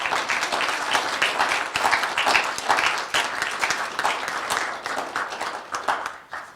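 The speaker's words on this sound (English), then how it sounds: "If we could just one more time give a round of applause for our contestants" Sustained applause from an audience honoring contestants at a high school poetry recitation competition, dense steady clapping filling the room for several seconds before tapering off at the end.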